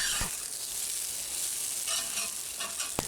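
Chicken and broccoli stir-frying in a cast iron wok, a steady, fairly quiet hiss of sizzling oil with occasional scraping clicks of stirring and no voices.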